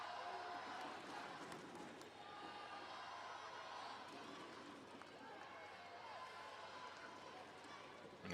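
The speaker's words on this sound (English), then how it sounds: "the crowd is getting involved" A football stadium crowd at an India vs Lebanon AFC U17 Asian Cup qualifier makes a steady, distant roar, with a commentator talking continuously over it.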